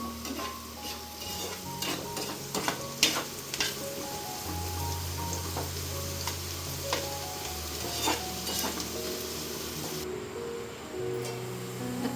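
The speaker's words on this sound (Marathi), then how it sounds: "कांदा छान लालसर रंग येईपर्यंत परतून घ्यायचा आहे मस्तपैकी" Onions sautéing in a pan until golden, a steady close sizzle with repeated stirring and scraping strokes, alongside a second vegetable dish of foraged monsoon greens being cooked nearby, with no talking.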